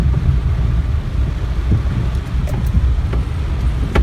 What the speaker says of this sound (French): Et il pleut comme vache qui pisse.